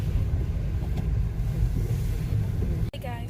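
Steady low road rumble from riding inside a moving car on a windy morning, continuous and close, with a brief thump near the end followed by a faint higher tone.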